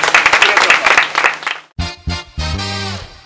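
Applause at the Miss BPX 2018 pageant, a crowd clapping loudly for about a second and a half, then cut off and followed by other sounds.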